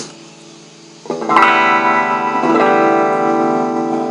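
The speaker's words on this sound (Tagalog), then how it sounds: "Pero kung gagamitin mo siya as booster, itataas mo. So, ang magiging tunog niya ay ganito na." Electric guitar played through a clean amp with a booster pedal's level turned up, strummed chords ringing out loud and sustained with a sudden jump in volume and brighter, fuller tone.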